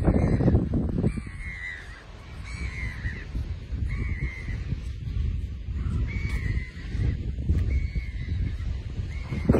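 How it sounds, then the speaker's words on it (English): Two seagulls in a chase, one giving repeated harsh calls in short bursts over steady background noise, with no talking. "Poor seagull getting chased by another seagull"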